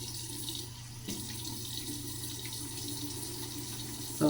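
A bathroom tap runs steadily into a sink, a soft, close, continuous rush of water with a brief splash near the end, without any speech.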